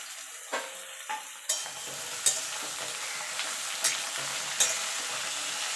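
Ridge gourd and potatoes sizzle in a hot pan while a utensil scrapes and knocks several times in an uneven stirring rhythm, close and clear.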